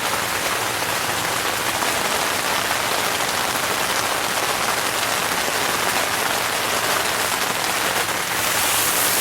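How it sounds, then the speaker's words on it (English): Steady, dense patter of rain striking a Coleman Sundome 4-person tent, continuous and fairly loud with no pauses and no voices. "And it just started raining a little while ago"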